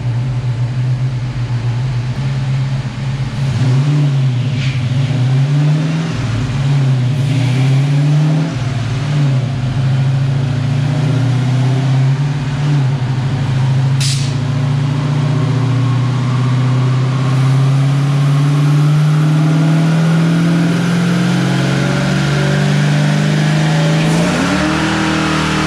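A high-horsepower car engine on a dyno, in a nitrous versus supercharger test, revs hard and continuously for the whole run, pitch wavering and climbing in loud bursts before a final rising pull, with no talking.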